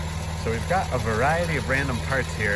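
A 1948 Farmall Cub tractor with a 6-volt system idles steadily underneath someone talking close by.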